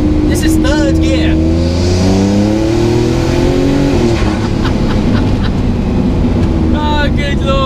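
Fenyr Supersport hypercar engine pulling hard in third gear, a loud rising drone with climbing harmonics, then easing off into a rough rumble before a brief lift at the end.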